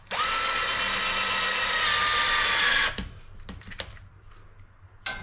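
A power drill drives screws into a tomato cage, with a loud high whine running steadily for about three seconds before stopping, followed by clicks and handling clatter.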